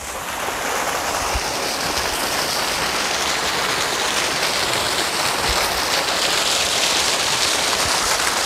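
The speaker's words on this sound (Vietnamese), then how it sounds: "chúng ta có thể đến gần cái thác này luôn các bạn" A waterfall pours nearby with a loud, steady, broadband rush that stays constant throughout, with no voices.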